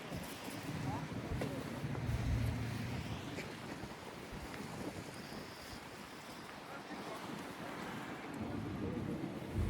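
Strong wind gusts outdoors, buffeting the microphone with a constant loud rumble and rushing noise throughout, while a person speaks under it.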